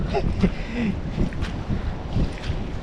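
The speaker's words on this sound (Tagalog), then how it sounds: "So ngayon sobrang lakas po ng hangin na malamig." Strong cold wind buffets the microphone outdoors near water, with gusty low rumbling bursts rising and falling, and a voice speaking faintly underneath.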